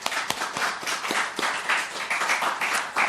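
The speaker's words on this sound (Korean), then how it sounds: "우리 여성교회 성도님들을 위해서 우리 박수 한번 하십시다" A church congregation claps for its women members who made a large batch of kimchi: a dense, steady round of many hands that holds for about three seconds, with a few sharper claps standing out near the front.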